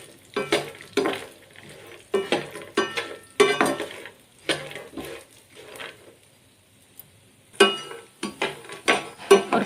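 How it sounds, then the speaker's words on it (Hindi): Cashews and almonds stirred in a pan over low heat for flaxseed laddu, giving repeated bursts of scraping and clinking from the utensil against the pan, each a second or so long with short pauses, close and fairly loud, no talking. "काजू को धीमे आंच पे भूनें"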